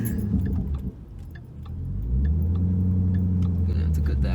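A Shelby GT500 on Weld wheels and drag radials rolls along, then its engine swells into a deep, loud, steady low rumble as it accelerates from a roll. Voices are heard inside the car.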